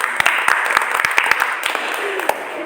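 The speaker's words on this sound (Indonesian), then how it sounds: "Oke, selesai tepuk tangan untuk kita." A small group claps together in a classroom group-guidance session, sharp individual claps landing in a loose rhythm over a roomy background, fairly close and moderately loud.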